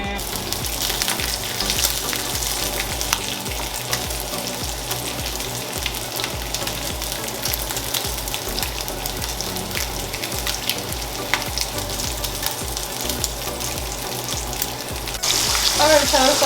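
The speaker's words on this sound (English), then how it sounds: "I got my other half of bacon cooking" Bacon fries in a pan with a steady, dense sizzle and crackle that runs throughout and grows a little louder near the end. No one talks over it.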